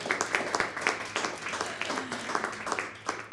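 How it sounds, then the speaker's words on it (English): A round of applause from an audience, a few seconds of scattered, fairly close clapping with distinct individual claps and light crowd noise. "Big round of applause."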